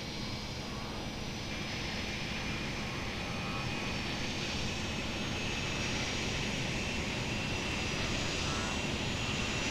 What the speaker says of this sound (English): Our takeoff speed will be a little faster than normal, as we're very heavy due to the ordnance we have on board.